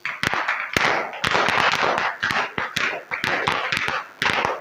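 Students in a classroom at a government school in Bihar clap together in uneven bursts of close, loud claps with brief pauses between rounds.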